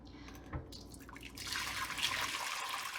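Elderberry juice poured back into a pot, a steady liquid splash building from a light trickle into a fuller, continuous pour that stays close and fairly loud.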